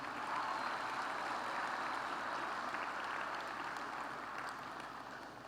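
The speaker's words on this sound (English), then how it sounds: "Let's just take a moment and give them thanks and a round of applause" Sustained applause from a large audience in an arena, a steady wash of clapping that holds throughout and tapers slightly near the end.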